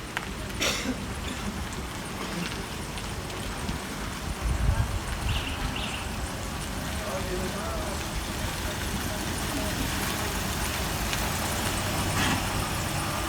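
A car engine hums steadily at low revs throughout a hill start on a driving-test course, faintly rising toward the end, with people talking over it.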